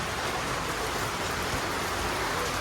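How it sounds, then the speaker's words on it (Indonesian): Steady heavy rain pours down as a dense, even hiss that holds at a constant loudness throughout, close and with no voices. "Hujan berkah."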